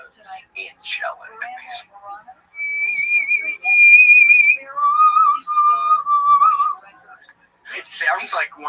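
Someone whistles long, sustained tones that slide between pitches, eerie and clear, with soft murmured voices at the start and end.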